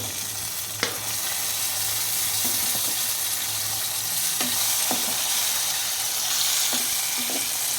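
Cucumber pieces frying with garlic in a pan, a steady loud sizzle that runs throughout, with a few faint stirring scrapes and taps, close up and with no talking.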